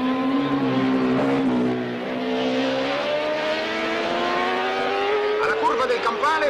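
Racing motorcycles of 1968 on the Modena circuit howl with high revving engine notes that climb and fall in pitch as they pass, under a commentator's steady talk.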